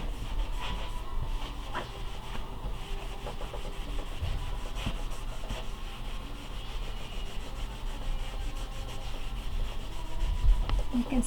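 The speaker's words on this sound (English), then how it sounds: "I have also pulled out an old brush that I used for shoes and buffed my wax" An old shoe brush buffs wax over painted furniture, making a steady close brushing and rubbing hiss that carries on without a break at a moderate level.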